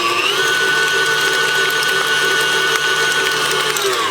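A stand mixer whips four sticks of soft butter with a loud, continuous electric motor whine that holds steady from start to finish, with no talking.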